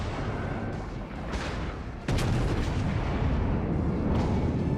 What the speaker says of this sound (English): Keep up the barrage on him.